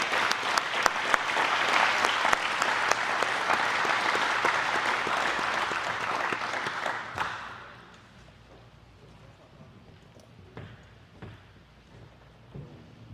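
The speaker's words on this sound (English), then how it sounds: "please give them a warm round of applause" An audience claps warmly for guests called to the stage at a 2023 high school awards event, loud sustained applause that fades to a quiet room after about seven seconds.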